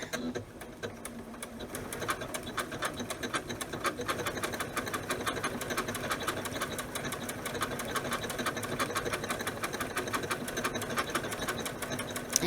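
A Janome sewing machine stitches tightly spaced stitches, a steady rapid mechanical whirr with fast even needle ticks that runs continuously throughout at close range.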